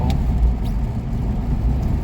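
A Toyota pickup with the 22R four-cylinder engine pulls hard from inside the cab, giving a steady, loud, low engine drone with road rumble and no voices.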